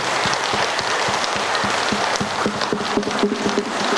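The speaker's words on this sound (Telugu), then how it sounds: "ఇక్కడికి వచ్చినటువంటి మాస్టర్లందరికీ గట్టిగా చప్పట్లు" At a Guru Purnima gathering in a meditation pyramid, an audience claps with sharp, distinct hand claps that fall in a quick, fairly regular patter, close and steady throughout.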